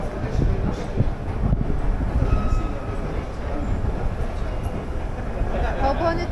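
A Rome metro train rumbles along in a low, continuous roar heard from inside, with faint squeals and rattles over the steady noise.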